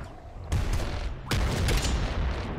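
Grenade blasts in Nuclear Throne, two quick booming bursts a moment apart, each followed by a crackling tail over steady game noise.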